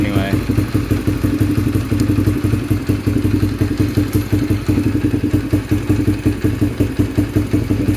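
Yamaha TTR125 with a Mikuni TM24 carburetor running cold at idle, a close, steady rapid thumping putter with clattery mechanical noise, while a person talks over it.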